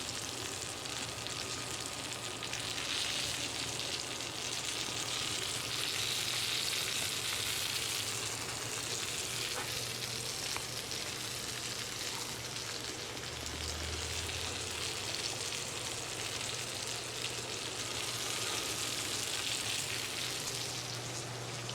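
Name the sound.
chicken fried steak frying in oil on Blackstone griddle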